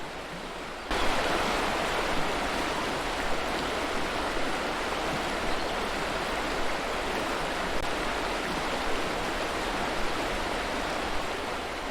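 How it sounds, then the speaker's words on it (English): Codfish Falls pours into the North Fork of the American River in Foresthill, California, a dense, steady rush of falling water heard up close that starts suddenly and holds constant. "So this waterfall is located right on the North Fork of the American River"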